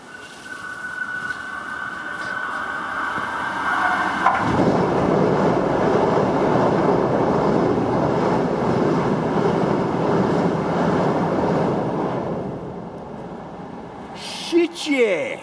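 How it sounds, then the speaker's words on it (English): A train rolls over a railway bridge near a creek weir, a loud sustained rumble and roar that builds after a few seconds and holds steady before fading, with people talking nearby. "Train, be careful."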